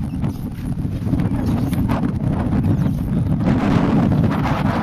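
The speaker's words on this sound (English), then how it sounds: "Oh, it's just windy here, isn't it?" Steady, roaring wind by the sea at Lindos, Greece, buffeting the microphone throughout, dense low rumble with gusty swells and no clear voices.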